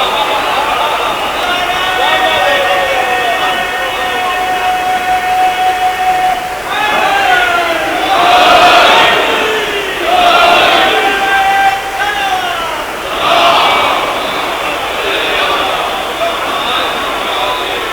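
A crowd at a Muharram majlis chanting a religious slogan together, loud rising-and-falling voiced bursts that swell in waves and repeat several times, filling the space with massed voices.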